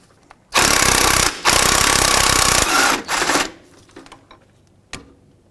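A power tool on a long extension works at the engine mount nut of a 2001-2007 Volvo V70, loud close rattling hammering in two long bursts, then a shorter burst, a spin-down and a lone clack.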